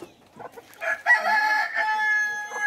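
A rooster crows once near a hut with many chickens kept around it, a loud, strained call with harmonic bands that rises, holds steady for over a second, then trails off; a few brief clucks come before it, and no one speaks.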